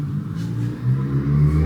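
A big-displacement motorbike engine drones and revs nearby, a low throaty rumble rising slightly as it moves past, heard alone for under two seconds.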